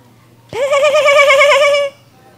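A person imitates a sheep's bleat, a single sustained wavering "baa" of about a second and a half, loud and close with no other sound around it.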